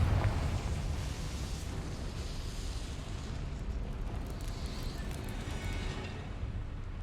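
Confringo explosive spell cast in Hogwarts Legacy, a rumbling low blast that stays loud and steady for several seconds, with no talking.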